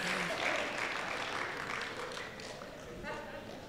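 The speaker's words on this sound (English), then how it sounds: "Put a round of applause for my eyes" A congregation at a church ordination service claps in a sustained round of applause, moderately distant, with a voice speaking over it.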